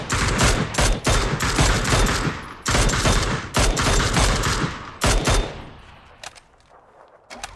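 Rapid bursts of automatic gunfire in the battle royale video game PUBG, several loud sustained volleys with brief gaps, fading toward the end.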